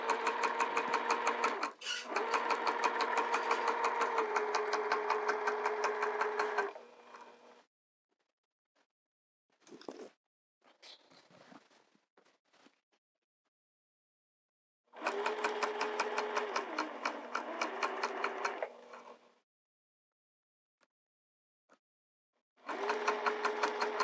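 A sewing machine stitches a skirt in three long, steady motor runs, loud and close, separated by quiet pauses with a few soft handling noises.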